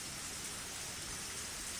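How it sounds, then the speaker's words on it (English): Steady falling rain, a dense even hiss of drops hitting surfaces, continuous and moderately quiet with no voices. "Enjoy the falling rain in the background, too."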